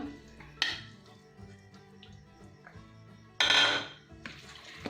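A spoon mixing boiled potato, peas and spinach in a bowl for hara bhara kebabs, giving a couple of loud close clanks against the bowl between quieter scraping and stirring, with no talking.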